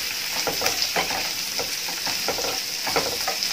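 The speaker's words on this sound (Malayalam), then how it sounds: "ഉള്ളി നല്ലോണം വഴറ്റണം." Three sliced onions sauté in a pan for a Mysore masala dosa potato filling, making a loud, steady sizzle broken by rhythmic scrapes and taps of the stirring spoon.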